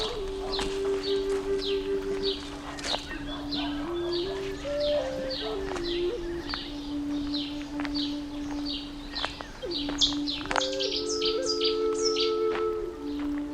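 Several birds sing and chirp in the Buskett woodlands of Malta, a busy overlapping chorus of short repeated calls near and far, with a steady tonal hum running underneath.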